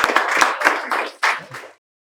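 A small group of students in a spoken English class claps briefly, a short burst of a few sharp beats lasting under two seconds before cutting off.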